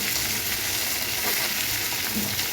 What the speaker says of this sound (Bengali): প্রথমে একবার এভাবে ভেজে নেব, পরবর্তীতে একটা ডিম দিয়ে, একটু কর্নফ্লাওয়ার, একটু ময়দা দিয়ে